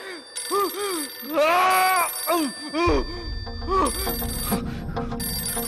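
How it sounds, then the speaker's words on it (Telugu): A telephone rings in a suspense horror film, with a repeating electronic ringtone in bursts under tense background music and a low rumble. "ఎవడో మహానుభావుడు ఫోన్ చేసి ఉంటాడు"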